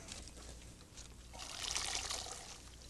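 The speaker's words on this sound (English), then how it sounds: "Be sure to drain this now. You don't want water on the platter." Cooked pasta is drained of its water in a kitchen, giving a soft, close pouring trickle that swells briefly and then eases off.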